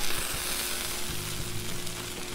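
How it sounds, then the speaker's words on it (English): Onion sizzling on a hot Blackstone griddle while making a double bacon smash burger, a constant close hiss with a low background hum and no talking. "let's throw the onion out first. There we go. Some hot onion."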